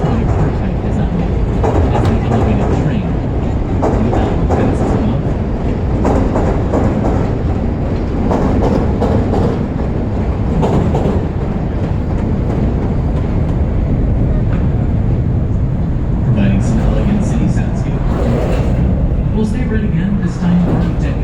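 A Chicago elevated train rumbles and clatters overhead for the whole stretch, loud and steady with rhythmic wheel clicks, while a voice talks underneath.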